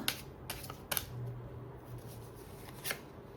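Tarot cards riffled and drawn from a deck during a reading: a few short, crisp papery bursts of shuffling, fairly close and quiet, separated by soft handling sounds with no talk.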